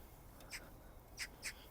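Three short, harsh magpie calls ring out at a distance over quiet outdoor ambience in a botanical garden, spaced unevenly with pauses between them.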